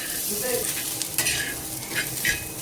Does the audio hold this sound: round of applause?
no